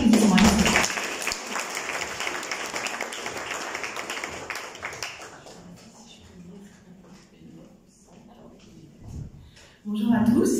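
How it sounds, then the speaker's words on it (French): Audience applause at a journalism forum in Mauritius, loud sustained clapping that thins out after about five seconds into scattered claps and murmuring, with voices and music or chimes near the start and end. "Toujours sous vos applaudissements"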